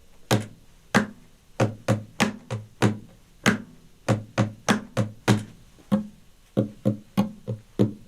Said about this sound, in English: I'm going to go ahead and start with loop 3 and do a little drum thing